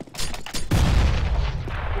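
A grenade goes off in Counter-Strike: Global Offensive: a couple of sharp cracks lead into a heavy low boom that rumbles on and slowly decays, loud and close.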